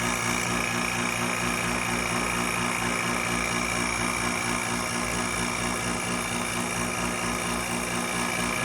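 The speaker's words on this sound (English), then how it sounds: "So we will go ahead and start the vacuum now." Vacuum pump evacuating the AC system of a 4th-generation Camaro, a loud, constant mechanical drone with a steady buzzing hum, unbroken and close up.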